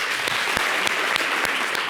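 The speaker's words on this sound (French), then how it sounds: "Merci de l'applaudir" Audience applause for a singer after a duet performance on a TV show, steady dense clapping throughout with a few sharper individual claps standing out.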